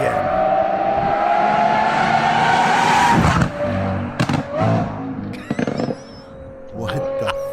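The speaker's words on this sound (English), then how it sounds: "Now, the sound of a Lambo." A Lamborghini's engine roars loudly and close, revving high in a sustained rising pull before dropping into sharp, choppy bursts and crackles, then climbing again near the end.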